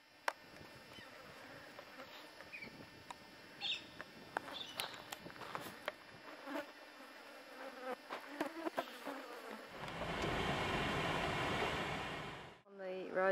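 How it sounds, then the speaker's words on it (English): Flies buzzing in the Australian outback on the road to Lyndhurst, a scattered mix of near and far buzzes with faint footsteps and movement, then a louder, steadier buzz close by toward the end. "Right, I've had enough of flies."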